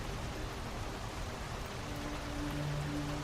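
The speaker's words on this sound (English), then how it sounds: "It started to rain outside." Steady rain falls outside a hotel, a soft, even hiss of drops that holds at a low level for the full few seconds with no voices.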